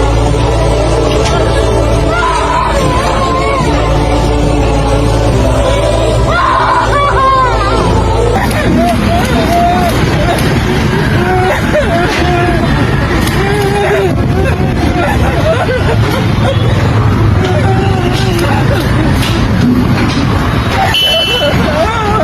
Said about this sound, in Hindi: किस प्रकार से महिलाएं चिल्लाती हुई चीखती हुई नज़र आ रही हैं।